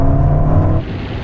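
A Ferrari SF90 and a Porsche 911 Turbo S launch side by side in a half-mile drag race, giving a loud, steady engine roar that drops to a lower, rougher drone partway through the brief burst.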